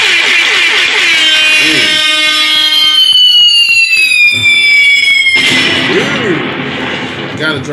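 A bomb-drop sound effect played on a hip-hop podcast: a loud falling whistle glides steadily downward for several seconds, then breaks into a harsh, noisy blast that fades out.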